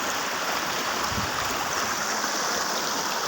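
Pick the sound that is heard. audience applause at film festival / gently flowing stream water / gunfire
gently flowing stream water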